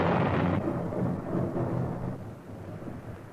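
Deep thunder rolls loudly and then slowly fades into a low, lingering rumble, with no voices.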